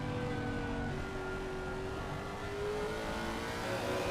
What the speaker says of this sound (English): That engine sounds so crazy. Yeah. Like a lion roaring. It's really high up in RPMs, that sound.